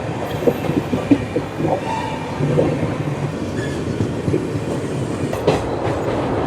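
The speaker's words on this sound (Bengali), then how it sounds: "ট্রেন আমাদের ছেড়ে দিল।" The Sealdah Kanchankanya Express runs near Farakka, heard from on board as a steady rumble with rhythmic wheel clatter, a few faint squeals, and scattered thumps.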